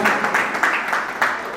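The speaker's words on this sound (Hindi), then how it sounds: "तालियां बजाओ एक बार जोरदार।" Strong, enthusiastic applause from an audience at a Rathyatra chariot festival celebration, dense clapping that swells in a few surges over a short burst, with no voices over it.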